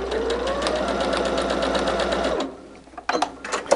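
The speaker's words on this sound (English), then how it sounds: "I find the faster I sew" A sewing machine stitches a quilt block for a barn star sampler, running fast and steady for a couple of seconds, then stopping before a few short, uneven bursts of stitching close by.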